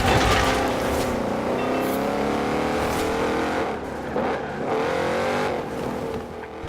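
Porsche car engine in Forza Horizon 4, the motor droning loud and steady with shifting revs through gear changes, dipping and rising as it drives on around Edinburgh Castle.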